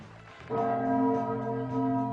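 Chimes ring the hour on a novelty TV horror-comedy show, a sustained, resonant tone starting after a half-second of quiet and holding loud and steady, alone with no talk.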